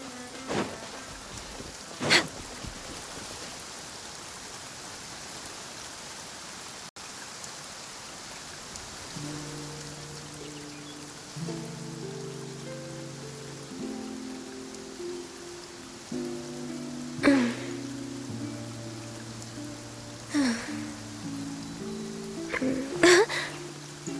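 Steady rain falls in the Genshin Impact video game, a soft continuous patter throughout with occasional sharper drops, later joined by gentle low musical tones and no voices.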